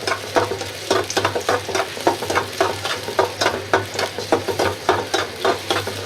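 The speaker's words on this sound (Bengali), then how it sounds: "পেঁয়াজটা সুন্দর করে ভাজা ভাজ হয়ে গেছে" Onions frying in a little oil in a pan, a close, continuous sizzle with quick rhythmic bursts of stirring that repeat steadily throughout.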